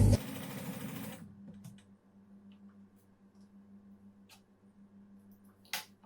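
A sewing machine stitches the shoulder seam of a girls' summer dress, starting with a lock stitch: a brief close rapid whirring run at the start, then quiet with faint clicks and a short knock near the end.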